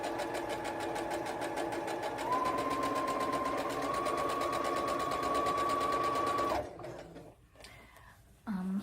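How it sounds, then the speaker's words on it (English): A sewing machine top stitching a fabric toddler diaper bag runs in a steady continuous whir for several seconds, then stops and gives a few short bursts near the end. "Okay, so I am top stitching"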